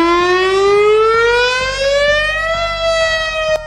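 Whelen Vortex VS 1000 civil defense siren winding up, one loud sustained wail whose pitch climbs steadily and then levels off, rich in harmonics, heard alone with no voices.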